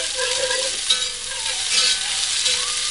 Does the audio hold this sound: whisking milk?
yes